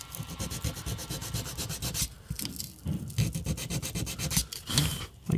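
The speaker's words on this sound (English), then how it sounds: "Just take a piece of sandpaper, fold it over a couple times, and smooth it over." Folded sandpaper rubbed by hand over a prop part, giving steady rhythmic back-and-forth scratching strokes with brief pauses, close and fairly loud, with no talking.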